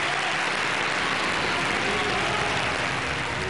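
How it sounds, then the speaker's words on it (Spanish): A crowd applauds the candidates at a political rally, a dense, steady wash of clapping that fills the whole stretch without pause or voices. "Fuerte el aplauso para los candidatos."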